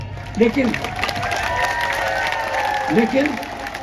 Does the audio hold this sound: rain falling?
no